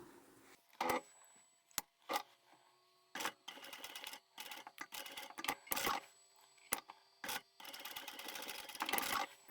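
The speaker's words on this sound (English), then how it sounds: "I'm going to sew over this a few times to keep this handle together" A sewing machine runs over a braided rope handle for a market bag, stitching several times to hold it together: short bursts of fast mechanical whirring broken by brief pauses, close and clear.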